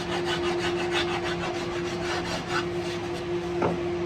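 A rasp works over a carved wooden guitar neck in quick, even strokes, a rhythmic dry scraping close by with no talking.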